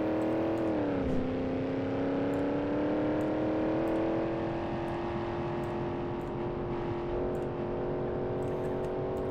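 A truck engine in the BeamNG.drive driving game roars steadily as it accelerates downhill, the revving drone rising slightly in pitch and holding loud and continuous throughout, with no talking over it.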